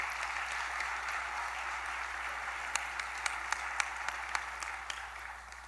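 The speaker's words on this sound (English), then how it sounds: "let's also give them a round of applause as well" Audience applause at a closing session of a gathering, steady dense clapping from a crowd that holds evenly throughout, with a few sharper individual claps standing out near the end.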